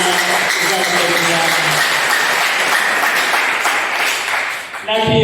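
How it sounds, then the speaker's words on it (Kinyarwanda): A church congregation claps for God during a service, with continuous hearty applause mixed with voices and a tonal backdrop, ending in a brief louder burst. "Amashyi menshi ku Mana."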